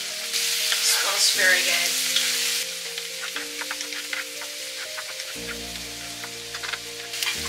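Shrimp hit a hot pan for lemon shrimp pasta and start frying with a steady, crackling sizzle, close and fairly loud, while a brief comment is spoken over it and the sizzle settles into a lower hiss.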